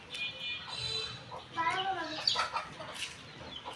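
Backyard chickens cluck and squawk nervously up close, with agitated calls rising in the middle, while a person talks over them.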